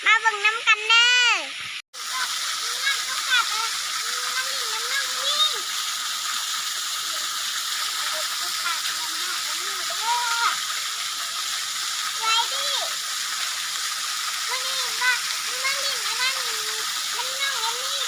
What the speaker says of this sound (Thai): มาเล่นน้ำตกตาด